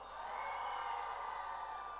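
Children cheer for Tapti House at a school sports fiesta closing ceremony, a sustained distant crowd roar of high voices shouting and whooping together, steady throughout.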